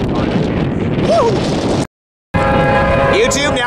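Freight train horn sounding loud and close at a railside spot, a sustained blast that breaks off briefly and then resumes, with rumbling rail noise underneath.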